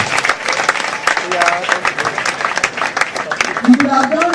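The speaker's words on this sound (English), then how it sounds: "I want you to clap for yourself." A crowd at a stakeholders meeting claps in a dense, steady burst of applause close by, with voices talking and calling out over the clapping.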